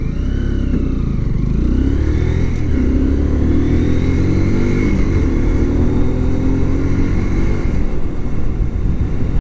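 A Kawasaki Z125 Pro cruises along a city highway at about 60 km/h and around 5500 rpm. Its small engine gives a steady, loud, close drone with shifting tones, mixed with continuous wind rush.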